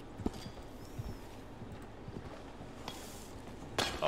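A horse clip-clops along in the Red Dead Online video game, with faint, scattered hoof clops under quiet ambience and a louder knock near the end.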